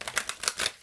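Tarot cards being shuffled, a quick run of close papery riffling and flicking bursts.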